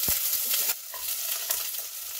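Onions sizzling and being stirred in hot olive oil for vegetarian onion soup, a steady close frying hiss with scraping stir strokes, no talking.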